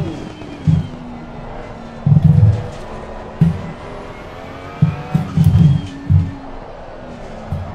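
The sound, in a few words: BMW race car accelerating in Assetto Corsa Competizione video game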